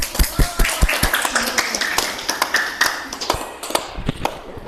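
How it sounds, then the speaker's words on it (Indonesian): A small group claps in scattered, uneven bursts, the sharp hand claps thinning out toward the end, with a little talk in the background. "Berikan aplaus atau tepuk tangan untuk kelompok 3."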